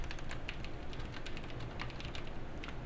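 Typing on a computer keyboard, a quiet, steady patter of close key taps with no speech.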